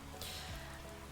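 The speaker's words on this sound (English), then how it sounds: "The rain outside pounded the roof in a constant, steady rhythm." Steady rain patters on a roof in a video game, a dense, even hiss with a soft, constant rhythm.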